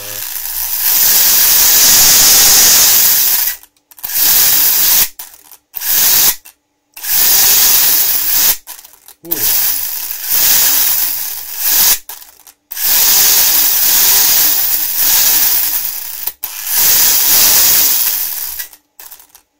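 A Tekno MT410 RC truck runs loudly with a harsh mechanical whine and rattle. It comes in repeated bursts separated by short silent breaks.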